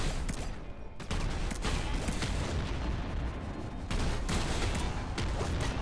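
Explosive, fire and bouncing projectiles fire in the Nuclear Throne video game, a dense, loud barrage of rapid blasts and crackling impacts that continues with only a brief lull near the start.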